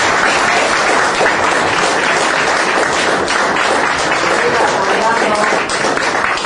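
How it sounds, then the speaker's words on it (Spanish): Loud, dense applause from an audience fills the whole stretch, a steady wash of many hands clapping at close range, sent off as a farewell for a guest named Leonardo at a gathering. "Vamos a despedirlo con un fuerte aplauso"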